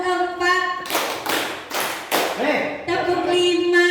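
Hands clap in a steady rhythm, with several broad, loud claps in a row between stretches of voiced chanting. A group leads the pattern up close.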